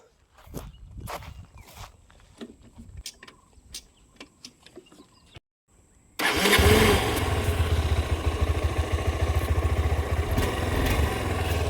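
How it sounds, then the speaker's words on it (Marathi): A Honda CB200X motorcycle engine cranks and catches, settling into a steady, loud idle after a few seconds of quiet clicking and footsteps. "गाडी स्टार्ट करून दाखवतो तुम्हाला"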